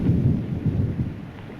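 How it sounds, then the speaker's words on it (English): A summer rain shower with thunder makes a dense, steady low rumble that swells and fades over a second and a half. No one speaks. "Look, rain. Well, it's the usual summer shower."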